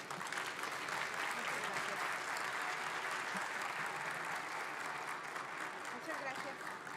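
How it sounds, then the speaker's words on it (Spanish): Steady, sustained applause from an audience at a Medical Expo recognition ceremony, a dense wash of clapping that holds at an even level throughout with no break. "pido un fuerte y caluroso aplauso"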